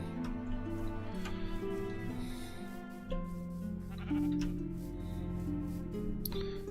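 Sheep in the Minecraft video game bleat repeatedly, several wavering calls overlapping with a steady background of game ambience, close and clear, with no talking.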